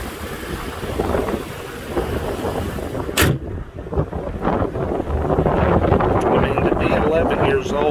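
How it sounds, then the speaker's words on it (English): Strong gusts buffet the microphone outdoors at a dealer car auction, a loud rumbling roar that swells and eases throughout, with a sharp knock partway through. "Hard to do that with the wind blowing this hard."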